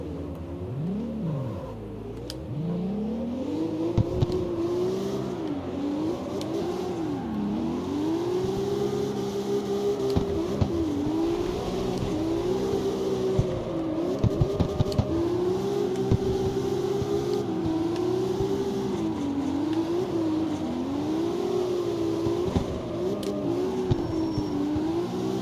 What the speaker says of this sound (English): JZX, another big car.